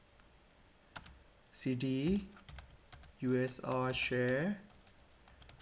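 Commands are typed on a laptop keyboard during an Arch Linux install, with quick close key clicks in short runs while a person talks over them.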